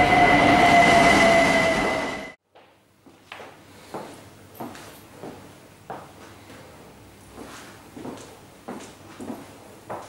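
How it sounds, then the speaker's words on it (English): A train pulls into Dalston Junction station with a loud rushing roar and a high whine that cut off abruptly, then a series of rhythmic wheel clacks over the rail joints as it slows. "And the train's just coming now"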